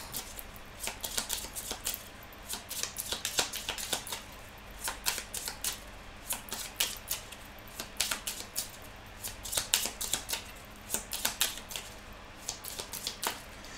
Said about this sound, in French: on va faire la petite coupe du Petit Lenormand